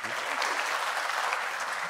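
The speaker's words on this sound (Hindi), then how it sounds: "सर के लिए ताली बजा दो यार" Audience applause for a teacher at a motivational talk for medical students, a dense, steady clapping from a large crowd that fills the whole stretch without a break.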